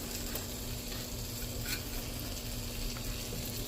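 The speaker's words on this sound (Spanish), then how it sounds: "Pues aquí ya vamos a echar el salmón el primero." Salmon frying in butter in a pan, a soft continuous sizzle with light stirring scrapes, close and fairly quiet throughout.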